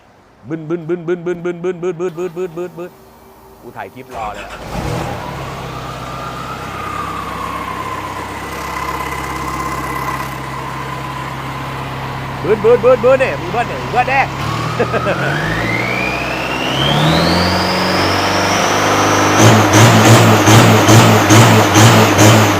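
A 3000cc pickup truck engine idles with a steady, throbbing pulse, then revs up with a loud, climbing pitch close to the listener. Brief voices can be heard at moments.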